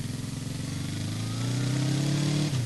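A motorcycle engine approaches and revs, its loud buzzing drone rising in pitch before cutting back sharply near the end.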